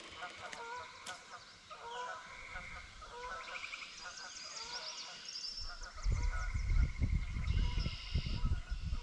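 Geese honk repeatedly in a busy chorus at middle distance, with low rumbling noise underneath in the last few seconds.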